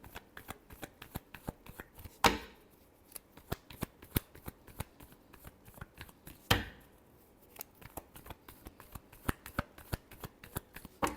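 Tarot cards being shuffled by hand during a love reading, a steady run of quick crisp riffling clicks with two louder snaps standing out, close and alone with no talk.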